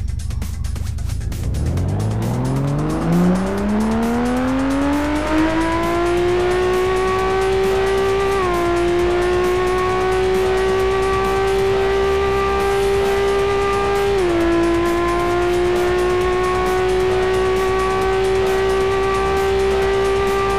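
A Mitsubishi 3000 GT engine in the racing game Juiced revs up from low to a high sustained whine, holding a loud steady pitch with two brief dips like gear shifts.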